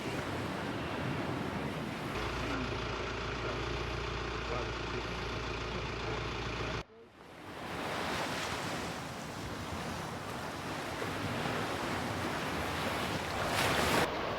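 Waves roll onto Keem Bay beach on Achill Island as a steady surf wash, with strong wind buffeting the microphone and a brief dip partway through.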